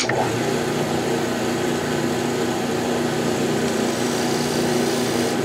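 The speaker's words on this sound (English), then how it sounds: "so that my Forstner bit has an easier time getting right in the middle." A wood lathe or drill runs as a Forstner bit bores into a turned shaving brush handle, producing a loud, steady motor whine with a tonal hum that continues unbroken throughout, with no talk.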